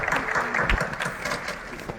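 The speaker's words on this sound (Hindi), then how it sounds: "तालियों की आवाज सुमित तक पहुंचेगी" Crowd applause rises at a felicitation ceremony in Panchkula for Olympic medal winners, a busy patter of clapping from many people, moderately loud, with some voices mixed in.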